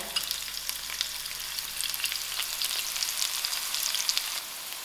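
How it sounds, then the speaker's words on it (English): Onions sizzle in oil in a pan for green pawpaw curry, giving a continuous, crackling fry sound up close with light spatters and no voices. "My onions is getting fried."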